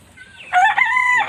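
A rooster crows once, close and loud, rising after a quiet start and holding for under a second alongside the chickens.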